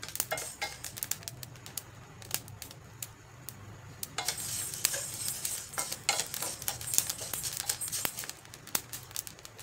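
Millet (bajra) dry-roasting in a pan for thalipeeth flour, a faint, steady crackle of popping grains with scattered sharp ticks and scraping stirring throughout.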